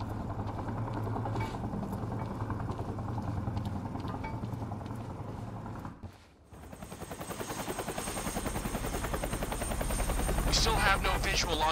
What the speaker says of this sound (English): Better get inside before the chopper spots me.